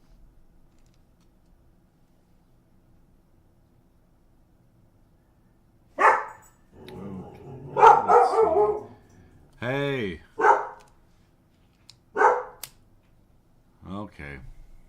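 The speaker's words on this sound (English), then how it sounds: "I have to do something about the dog." After a quiet stretch, a dog nearby lets out a series of loud, separate barks with short yips in between, spread over several seconds, and a person calls out once.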